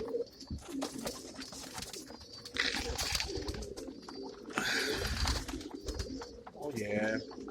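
Pigeons in a loft coo and flutter, soft repeated cooing and scattered bird calls close by, with a person talking intermittently among the birds.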